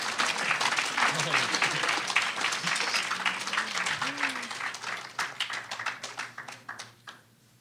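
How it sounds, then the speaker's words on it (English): Sustained applause from an audience, dense clapping that thins out toward the end, with some voices mixed in. "let's give one round of applause to all of the groups"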